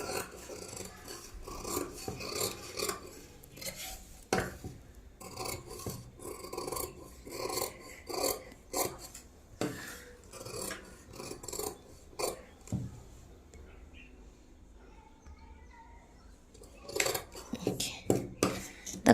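Scissors cut through katori blouse fabric for a 32-inch blouse, giving close, repeated rasping snips and sliding crunches in irregular bursts, with a quieter stretch near the end and no talk.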